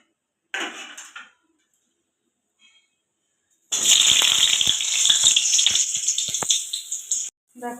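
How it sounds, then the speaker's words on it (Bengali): After a brief clatter and a pause, a loud, steady sizzle of potatoes frying in hot oil crackles for several seconds, then stops abruptly. "এখন আমি ওই তেলের মধ্যে আলুগুলো দিয়ে দেব"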